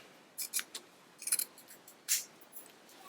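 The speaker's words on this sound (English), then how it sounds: "I'm going to make sure not to trim it as closely as I did my collar stand" Scissors trimming fabric seam allowance during collar sewing: a handful of short, crisp snips in small clusters, close and alone against quiet.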